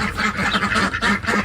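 Ducks quacking in a repeated, busy chorus, close and fairly loud, with no talk over them; geese and peacocks are nearby in the same spot.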